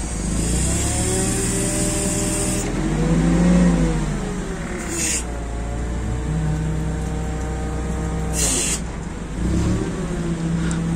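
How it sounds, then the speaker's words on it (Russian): Sumitomo FG10 one-ton petrol forklift idling nearby while the mast tilts, the engine note rising and falling with short hydraulic surges, steady and moderately loud. "Наклон мачты."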